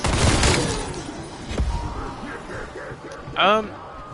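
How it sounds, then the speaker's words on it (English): A futuristic laser gun in Call of Duty Zombies, upgraded with Pack-a-Punch, fires a dense burst of shots, then a bright, sweeping electronic zap rises near the end, loud and close, over a busy game soundtrack. "Still has a nice, cool, futuristic laser gun sound"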